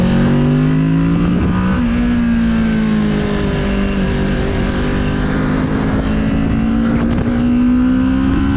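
A Kawasaki Z650 motorcycle engine hums loud and close, its pitch rising and falling through several revs over a steady running note, with no talk.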